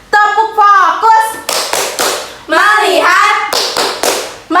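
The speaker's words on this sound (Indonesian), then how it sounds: "Mari murid-murid semua, ayo kita tepuk fokus bersama-sama" A class of young primary-school children chant together and clap in rhythmic bursts for the 'tepuk fokus' routine, the loud, sharp claps falling in steady groups between the sung phrases.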